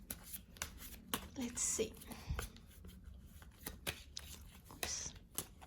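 Tarot cards riffle and slap softly as they are shuffled up close, with rustling handling noises and a quiet voice murmuring briefly.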